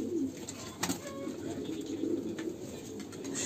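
Pigeons coo continuously in a hobbyist's coop, a dense, steady murmur of overlapping calls from several birds close by, with a few brief louder flutters or calls rising above the chorus.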